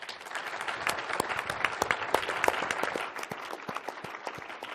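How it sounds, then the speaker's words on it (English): A conference audience applauds a panel steadily, many hands clapping together in a sustained burst that tapers off near the end. "can we please give our panel a round of applause?"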